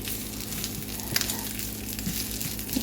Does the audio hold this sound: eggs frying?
yes